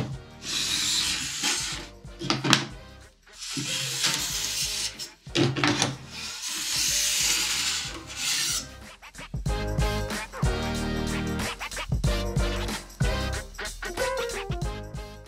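An edge tool is pulled along the steel edge of a ski or snowboard in repeated long scraping strokes, close and steady, broken by short pauses and some lighter rattling handling noise toward the end.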